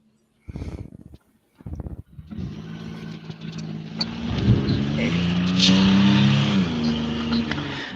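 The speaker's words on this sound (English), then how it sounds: "they didn't ask about how loud my car is" Loud car engine on the Mallory Park race track, rising from short revs into a sustained, building drive with harmonic engine tones, close and dominant, with no talk over it.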